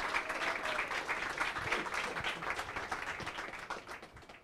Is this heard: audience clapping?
yes